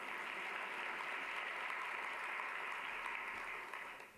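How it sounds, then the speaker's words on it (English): Leadership summit audience clapping steadily as a guest is acknowledged, a soft, even wash of applause from a large room that fades out at the end. "please clap for Doug"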